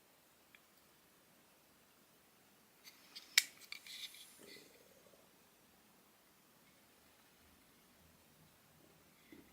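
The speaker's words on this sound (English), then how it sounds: "there's a little blade so you can put the cable in and then run it through to cut it down its length and then snip off and strip" A Parkside cable stripper snips and strips a cable in a quiet setting: a few faint clicks, then a sharp metallic snip followed by a short scraping rasp, with silence on either side.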